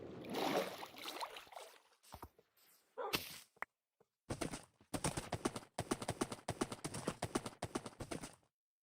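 Horse hooves clip-clop in a video game, a run of quick rhythmic hoofbeats that starts, pauses and resumes, fairly close and clear with no talk over it.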